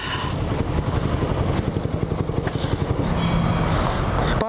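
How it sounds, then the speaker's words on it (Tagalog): Several motorcycles idle and rumble nearby at an outdoor roadside spot, with a steady pulsing engine chug under wind buffeting on the microphone. "Yan, daming motor."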